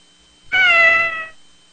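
A single clear, close cat meow rises sharply, holds briefly with a bright tonal cry and then fades away, heard alone without talk.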